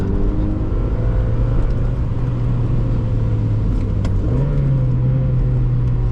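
A 1999 Mazda Miata drives on a wet road, heard from inside the cabin: a loud, steady low engine drone and tyre rumble, with the engine pitch climbing slightly partway through as the car accelerates.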